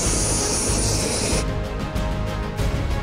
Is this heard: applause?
no